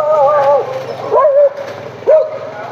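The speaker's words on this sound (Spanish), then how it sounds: "Están los perros brotados." Several dogs bark and yip in short overlapping bursts on a street in Holguín, Cuba, fairly close and loud, with a steady background hum.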